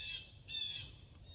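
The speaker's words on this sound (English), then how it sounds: "excuse the bird" A pet bird squawks indoors, two short, harsh, rasping calls in quick succession, fairly faint and set against a quiet room.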